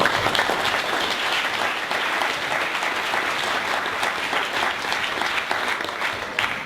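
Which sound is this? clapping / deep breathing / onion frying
clapping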